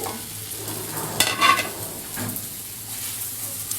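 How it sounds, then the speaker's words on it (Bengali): Dried fish and onions frying in oil, with a soft continuous sizzle broken by a couple of brief scraping stirs of the pan, close by and without speech. "এই তো আমার সুটকিগুলো পেঁয়াজের সাথে ভাজা হয়ে গিয়েছে"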